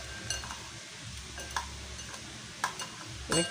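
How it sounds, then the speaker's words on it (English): A spoon stirs blended oils in a container with soft swirling and scattered light clinks and taps against the sides, faint and close, with no voices. "So I'm just going to mix these oils right now."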